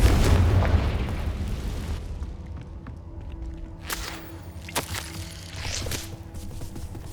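A Confringo spell blasts in Hogwarts Legacy, a heavy booming explosion at the start that rumbles and fades, followed by several sharp whip-like cracks and bursts of spellfire.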